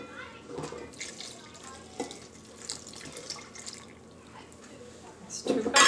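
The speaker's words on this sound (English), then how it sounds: "I'm going to add 3 cups of water." Water poured from a tap or jug into flour for a sourdough starter dough, a thin uneven splashing trickle with a louder gush near the end, with a person speaking at times.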